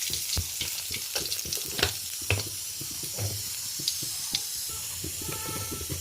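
Bay leaf, cumin seeds and whole garam masala fry in hot oil, sizzling steadily up close while a spatula knocks and scrapes the pan in irregular clicks, with no talking.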